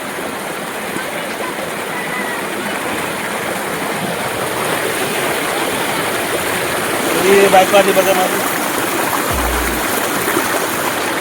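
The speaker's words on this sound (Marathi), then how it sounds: "वा वा मस्त झरणा आहे बघा" A waterfall stream of cold water at Prabalgad, Dongarachi Wadi, rushes in a loud, unbroken roar up close, while someone talks over the steady water noise.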